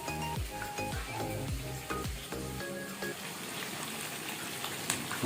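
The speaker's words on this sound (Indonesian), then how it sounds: "Kita goreng." Food sizzles and fries in a hot pan during an outdoor group cook, a steady crackling hiss broken early by several rhythmic knocks or stirring clatters, close and loud.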